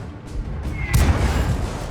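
Artillery fire in World of Tanks gameplay: a single loud booming blast lands near the middle and rolls on into a rumbling tail, over a constant low game-engine hum.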